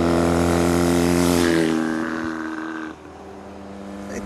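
A smooth, torquey motorcycle engine drones loud and close, holding a steady note before easing off and fading lower as it passes.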